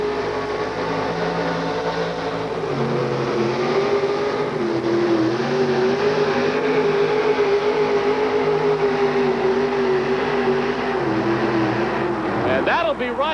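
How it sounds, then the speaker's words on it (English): A monster truck with a 526 Ford engine races at a 1987 USHRA event in Minneapolis. Its loud, sustained engine roar has a droning, slightly wavering pitch, and announcer talk runs over it. "The 526 Ford motor comes to life, and Wyman's on his way."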